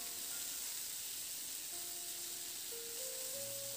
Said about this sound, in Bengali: এবার নাড়াচাড়া করে দেখুন খুব ভালো করে আলু বরবটিটাকে ভেজে নিয়েছি